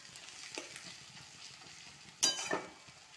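Onions and chicken frying together in a pan, with a soft, steady sizzle broken by a couple of sharp scraping stirs near the end. No voices.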